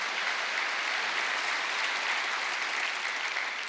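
Steady, sustained applause from a church congregation during a Wednesday worship service, a dense even wash of many hands clapping throughout with no voices on top.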